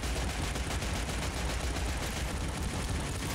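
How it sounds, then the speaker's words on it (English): Retro arcade-style gunfire in a video game, a loud, dense, continuous burst of rapid shots with an explosive, noisy texture and no voices. "Love the gun sounds in this game."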